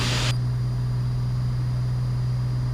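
Steady drone of a light aircraft engine during a steep turn training flight, a loud continuous low hum with constant cabin noise throughout, preceded by a brief burst of wind-like hiss at the start.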